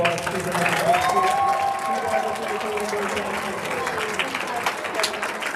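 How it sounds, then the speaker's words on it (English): An audience at a school winter sports awards ceremony applauds student athletes with sustained clapping that fills a hall, while a voice carries over the crowd. "give me a round of applause for our student athletes"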